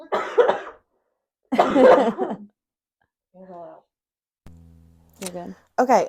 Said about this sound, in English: it's a cough, and I don't want to cough because I'm going to cough right into this mic